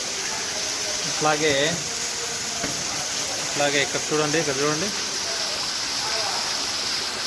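Heavy floodwater rushes at the Mahanandi Shiva temple after intense rain, a steady loud wash running throughout while someone talks over it.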